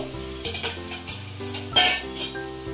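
Raw mango chutney with jaggery being stirred in a pan, with a soft sizzle beneath scattered scrapes and clinks of the utensil against the metal, close and moderately loud.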